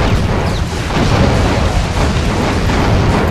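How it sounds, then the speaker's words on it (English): Rocket explosions in the video game Doom 2, played co-op with the Brutal mod: dense, continuous blasts and rumbling booms filling the whole stretch at loud volume, with no clear gaps between hits. "More rockets!"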